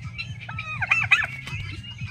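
A hen clucks and squawks close by, a short burst of agitated calls over a low rumbling background.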